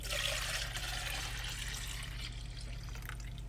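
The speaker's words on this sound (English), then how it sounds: "We're gonna pour this tea into here so we can get an even pour." Sweetened tea with not fully dissolved sugar poured from one container into another while RV cooking, a steady, close liquid pour running continuously without speech.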